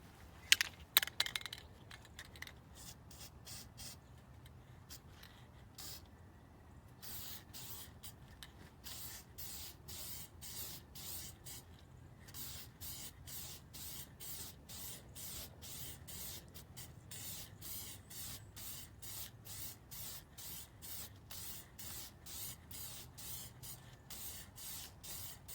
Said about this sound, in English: It's probably the worst can of spray paint I've ever used.